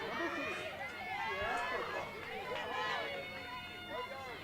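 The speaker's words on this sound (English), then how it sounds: "These crowds are getting loud." A loud, steady crowd at an NJCAA district softball tournament game, with many voices and cheers overlapping nonstop and no single voice standing out.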